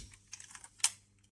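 The plastic clasp of a toy transformation belt clicks close by: a few soft, light ticks, then one crisp snap, and a faint final tick.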